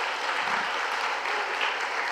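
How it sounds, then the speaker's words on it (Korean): A church congregation applauding during a revival service, a dense, continuous burst of clapping hands filling the whole short stretch at a steady, fairly loud level. "박수 주세요."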